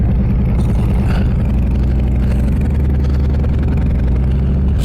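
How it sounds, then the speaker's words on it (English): A Harley-Davidson Electra Glide with the old Evo engine idles and runs gently during break-in, its low, loping rumble steady and close throughout, with slight variations in revs but no hard acceleration. "We're breaking in the old Evo. Taking it slow. Varying RPMs."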